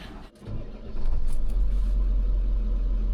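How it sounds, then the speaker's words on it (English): A rare motorhome truck's engine rumbles close by, dipping briefly then settling into a loud, steady low idle drone with no talk over it. "Like, I can't believe how well this truck runs."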